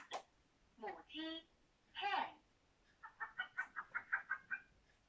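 Recorded hen clucking played back from a children's learning toy, faint, with a few drawn-out squawky calls followed by a quick run of about a dozen rhythmic clucks.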